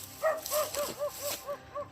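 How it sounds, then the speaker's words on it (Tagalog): A dog on a mountain trail barks about seven times in a quick, even series, clear and moderately close, with no one talking. "Aso bro."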